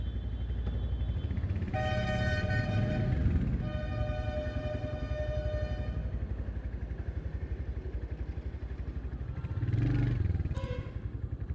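A Royal Enfield Hunter 350 motorcycle engine idles steadily throughout, a low continuous thrum that swells briefly near the end, heard up close with no talking.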